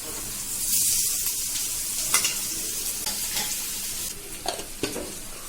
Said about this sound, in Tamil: இந்த வெங்காயத்துலயும் லேசா உப்பு இருந்ததுன்னா நல்லா இருக்கும். வெங்காயம் இந்த மாதிரி கொஞ்சம் செவந்து வந்ததும் இப்ப இந்த மீனை வந்து இதுல சேர்க்க போறாங்க.